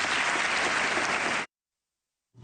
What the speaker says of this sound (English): bipartisan applause